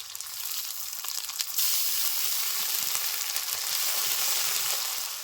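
Ginger garlic paste frying with browned chopped onions for a katla fish kalia crackles in a steady, bright sizzle that swells louder after a moment, with faint stirring taps beneath.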